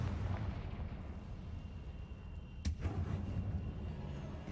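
A single sharp blast from the Confringo fire spell in Hogwarts Legacy cuts through a low, rumbling game ambience roughly midway, then fades back into the background drone.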